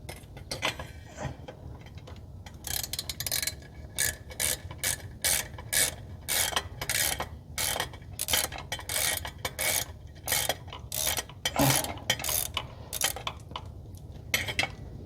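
A ratchet with a 9/16 socket loosens valve cover bolts on a Dodge D150 with a 318 engine, making rapid, close metallic clicking in repeated bursts with brief pauses between strokes.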